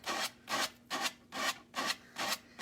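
Rubbing strokes of a fine rad pad smoothing a decoupaged piece, six even back-and-forth rasps in a steady rhythm, close and fairly loud with no talking.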